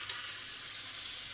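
Food frying in a pan with no oil, a soft, even hiss and sizzle heard close and quiet, unbroken throughout.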